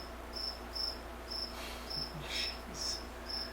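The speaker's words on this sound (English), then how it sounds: "Sorry about the cricket, guys." Steady, evenly spaced high-pitched chirps from a cricket right outside the door of a woodcarving workshop, repeating about twice a second over a quiet background with a few faint soft bumps in between.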